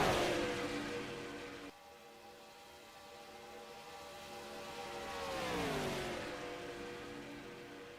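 Race cars running in a tight draft pack in a Talladega racing video game, a steady multi-engine roar with sustained engine tones that drop sharply and then swell as the pack passes.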